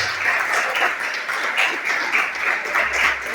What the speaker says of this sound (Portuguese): Eu queria que você desse um aplauso devido a isso